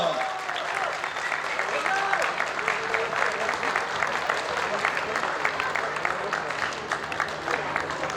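An audience applauds at an award ceremony for a university young chefs' cooking competition, with dense, steady clapping that holds at a fairly even level for the whole stretch and a faint murmur of voices mixed in.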